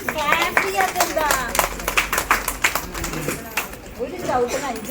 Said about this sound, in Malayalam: ക്ലാപ്പ് ചെയ്യാത്തെന്താ?